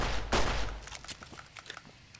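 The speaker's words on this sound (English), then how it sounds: "Blasting off giant soldier ants." Gunfire from the video game Fallout: New Vegas, aimed at giant soldier ants: a loud opening blast followed by a quick run of lighter, rapid shots.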